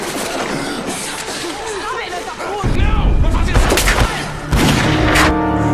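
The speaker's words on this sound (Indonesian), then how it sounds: "Kiko terkena tembakan Zamora" Film gunshots ring out amid a busy, loud mix, heavy booms and sharp cracks with rumbling effects, while a voice talks over it.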